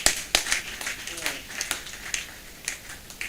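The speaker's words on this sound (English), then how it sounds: "Let us give the panel a resounding round of applause" An audience at a criminal law review conference applauds a panel with scattered, uneven claps rising in brief bursts, heard alongside talking.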